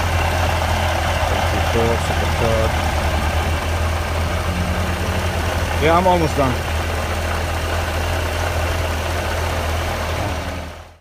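A 2016 Corvette Z06 with the Z07 package idles with a steady deep low hum, while people talk nearby over it before the sound cuts off at the end.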